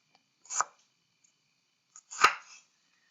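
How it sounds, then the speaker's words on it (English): Two separate crisp knife cuts through radishes on a cutting board in a quiet home kitchen, close and fairly soft, spaced well apart. "I got my radishes, and I was just slicing these"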